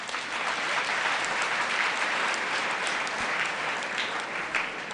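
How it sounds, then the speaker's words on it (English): Students and guests at a secondary school thanksgiving mass in Naggalama, Uganda, break into steady, dense applause from a large crowd, even and sustained with no talking over it. "Let us clap for ourselves."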